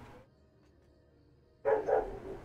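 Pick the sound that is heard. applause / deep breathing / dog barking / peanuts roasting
dog barking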